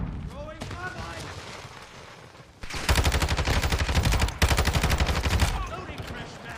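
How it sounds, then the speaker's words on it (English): Gunfire in Modern Warfare II, long rapid automatic bursts rattling loud and close after a stretch of quieter distant shots, with voices heard in the mix. "Enemy fire!"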